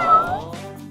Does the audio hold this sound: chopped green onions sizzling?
no